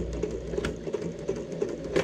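Sewing machine stitching a shoe lining in short, quiet bursts of rapid mechanical clatter with brief pauses between runs, close by.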